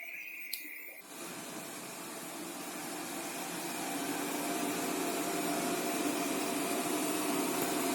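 A Cecotec Conga 3290 robot vacuum starts up and runs steadily, its broadband whirring hum of motor and suction swelling slightly and then holding constant as it cleans up dust nearby.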